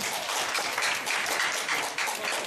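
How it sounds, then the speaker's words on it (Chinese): Audience applause fills a hall at an economic forum in Taiwan, a dense, steady wash of many hands clapping at once for the full few seconds, loud and close with no voices over it. "好，谢谢各位的掌声啊！"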